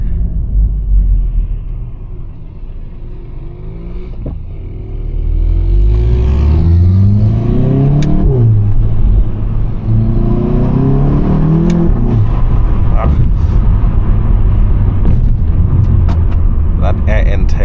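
A Volkswagen Golf 7.5 GTI engine rumbling from the cabin while driving at night, rising and falling through gear changes with revs climbing steadily, loud and continuous.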